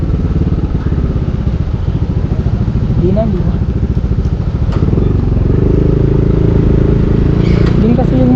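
Scooter motorcycles, a Honda Click 125 and a Yamaha Aerox 155, riding on a newly opened road in Olongapo, a loud, constant close-up engine hum with wind rumble, and a rider speaks briefly over it.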